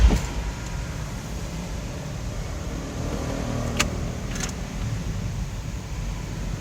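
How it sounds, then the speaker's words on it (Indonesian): Porsche Boxster S 718 engine starting and then idling: a brief start burst at the beginning settles into a steady low rumble heard from inside the car, with faint clicks of the mirrors unfolding. "Nah, ini coba kita start up sambil kita dengarkan suara mesinnya."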